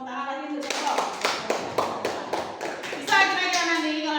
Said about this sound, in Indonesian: Nah, ya kasih tepuk tangan lagi untuk Joko.